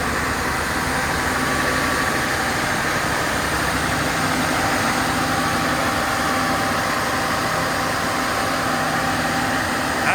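Engine idling with a hydraulic cooling fan running, a close, steady low rumble and broadband fan whoosh that holds constant the whole time, with no voices.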